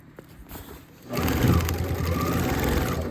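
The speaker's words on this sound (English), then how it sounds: "So I'm just gonna keep sewing this all around the top" A sewing machine stitches around the top of a tote bag made from thrift-store fabric. Quiet handling sounds lead into a steady, close mechanical whirr with a fast needle rhythm that runs without pause.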